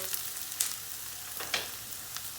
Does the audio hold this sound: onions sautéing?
yes